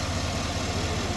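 An L92 V8 in a GMC Yukon idling high, a steady, dense low rumble with constant loudness and no voices.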